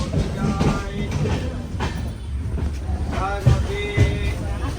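Kacheguda Murdeshwar Express pulling out of Kanhangad railway station, a steady low rumble of the moving train with faint clicks and creaks of the carriage heard from inside, continuous and moderately loud.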